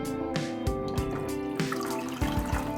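Water pours and trickles into a small pot holding chashu pork, a close, continuous liquid flow with splashy dribbles and a few brief knocks.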